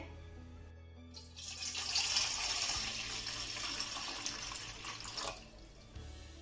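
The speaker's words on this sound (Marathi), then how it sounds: "आता यामध्ये आपल्याला दोन ग्लास पाणी घालायचं आहे" Water from a tap pours steadily into a large pot for about four seconds in a home kitchen, making a loud, continuous rushing splash that stops abruptly near the end.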